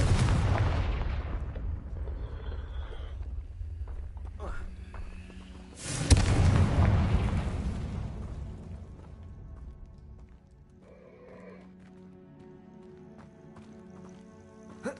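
A Confringo fire spell detonates in Hogwarts Legacy with a sudden loud broadband blast that rumbles and decays over several seconds, following earlier booming combat noise, with game music and voices around it.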